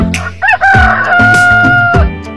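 A rooster crows once, loud and close, a long drawn-out call with rising and falling pitch, set amid a cartoon sequence of animal sounds.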